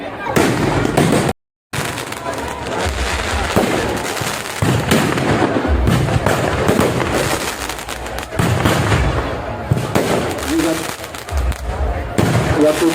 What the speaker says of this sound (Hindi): शानदार आतिशबाजी का आयोजन किया गया है।